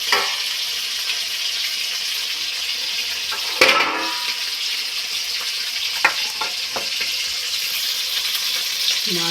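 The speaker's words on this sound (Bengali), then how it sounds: "মাছ ভাজা হচ্ছে, মাছটা ভেজে তরকারিটা বসাবো।" Fish frying in a pan makes a steady, close sizzle and crackle that runs throughout, broken by a few sharp clinks and scrapes from stirring.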